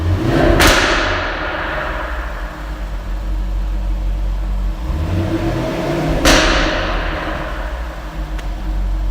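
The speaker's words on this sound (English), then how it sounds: "the exhaust is too loud to hear anything" Jaguar F-Type R exhaust with an aftermarket air intake filter, a loud, steady engine drone heard from inside the car, broken by two sharp cracking pops.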